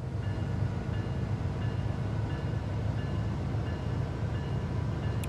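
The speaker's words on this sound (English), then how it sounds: "And away we go, and the back of our train is now moving" A train in Train Sim World 4 pulls away, a low steady rumble of wheels and rolling stock with faint rail clatter, continuous and moderately loud, no voices over it.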